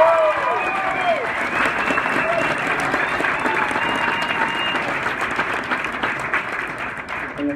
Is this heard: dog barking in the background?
no